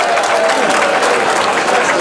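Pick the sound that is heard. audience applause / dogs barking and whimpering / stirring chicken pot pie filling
audience applause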